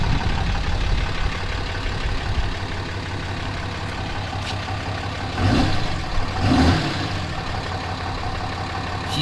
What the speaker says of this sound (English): This is what she sounds like stock.